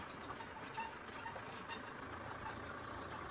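Vehicle engine rumbling steadily while driving across Maasai Mara plains of red oat grass, a continuous mid-level hum with wind noise and no talk.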